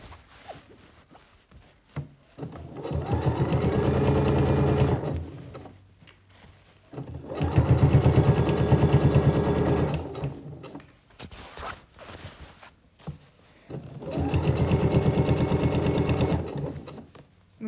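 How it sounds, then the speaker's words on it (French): Three separate runs of a sewing machine stitching a seam with backstitches, each steady burst of rapid needle chatter lasting a few seconds, close by, with quiet pauses between. "je vais faire encore des points d'arrêt, donc quelques points d'arrêt, et ensuite je pars"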